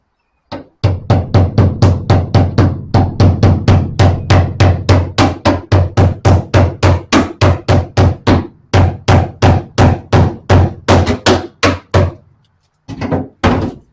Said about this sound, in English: You can use a hammer if you want.